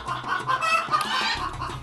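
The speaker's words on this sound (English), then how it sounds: "And we've got hens laying." Laying hens clucking nearby, several overlapping throaty calls in a short continuous burst over faint background noise.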